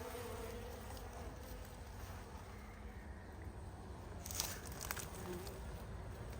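Honeybees hum around a backyard hive during a spring inspection, giving a steady, moderately faint drone with a few nearer passes as individual bees fly by outdoors.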